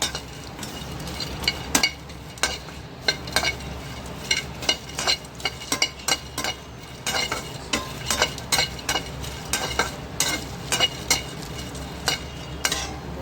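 Cardamom pods roast in a pan while a spoon stirs them, giving a soft dry rattle and scrape with light clinks against the metal in an uneven rhythm, close and fairly quiet, with no talk.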